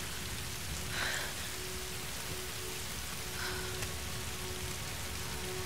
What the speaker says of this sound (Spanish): Si ves que está lloviendo.